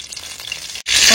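Ghee goes into hot white oil in a kadai, a soft crackle that cuts off briefly and then surges into a loud, bright, close sizzle.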